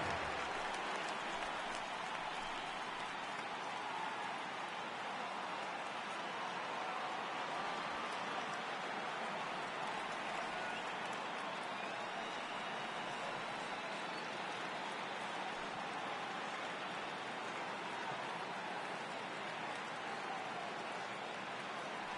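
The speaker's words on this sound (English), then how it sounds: "the rain starting to intensify here. It's coming down a little heavier now" Steady rain falls during a Yankees–Red Sox baseball game, a continuous broadband hiss that holds evenly throughout with no break, loud and close.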